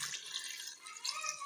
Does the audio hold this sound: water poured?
yes